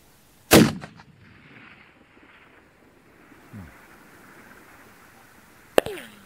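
A .300 RUM rifle fires at long range, giving a sharp, loud report with a rumbling tail near the start, then a quiet stretch with a faint distant thump, and a second crack toward the end.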